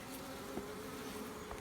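Honeybees buzz steadily around an opened hive during a colony split, a close, continuous hum with no voices.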